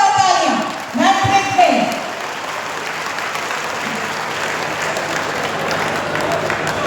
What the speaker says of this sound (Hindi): जोरदार तालियां मैट्रिक में।